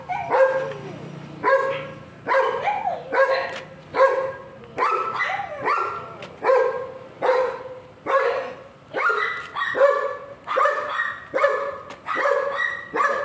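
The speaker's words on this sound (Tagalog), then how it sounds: "Tinatawagan na po kami ng aso." Several dogs bark in a steady, repeated volley over about thirteen seconds, sharp yaps and deeper woofs overlapping at close range, with no talk over them.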